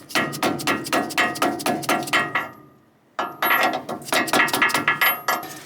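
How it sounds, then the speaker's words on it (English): Dead blow hammer driving a bud socket onto the rear axle of an International Harvester FA50: a rapid series of sharp, close blows in two bursts with a brief pause between them. "Just use a dead blow hammer."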